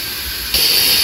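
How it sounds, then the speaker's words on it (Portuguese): Food sautéing in a pot on the stove while a Sunday lunch is cooked, a steady bright hiss of sizzling that swells louder midway, close and continuous with no voices. "Tá bem refogadinho aqui já"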